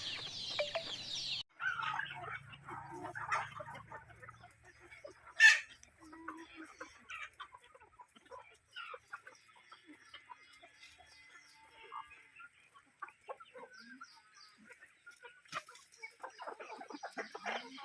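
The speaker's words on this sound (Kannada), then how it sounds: "ನಾಟಿ ಕೋಳಿ ಅಂದರೆ ಹೀಗೆ ನೋಡಿ" Native country chickens cluck and call on a farm, with scattered clucks and squawks from several birds, near and far, and a sharp louder call partway through, with a little talk now and then.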